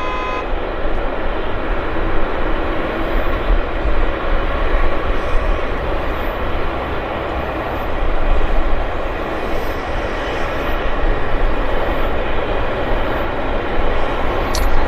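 An Air Canada airliner, Flight 1300 bound for Houston, rumbles at Vancouver Airport as a steady broadband engine roar, constant and fairly loud throughout with no talking.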